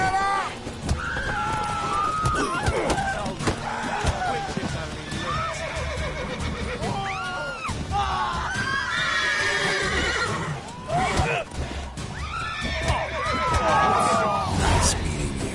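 Horses whinny and neigh repeatedly in a PS4 video game, shrill calls rising and falling over clip-clopping hooves and a busy background of game chatter and murmuring voices.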